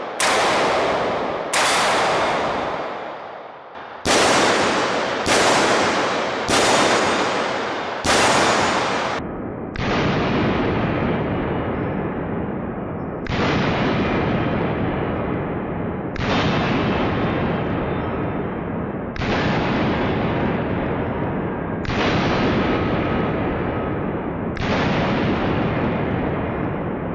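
AR-15 rifle firing a steady string of shots at steel targets on an outdoor range, each sharp loud crack ringing on with a metallic hit and echo, about a dozen reports spaced roughly two to three seconds apart, with no talking.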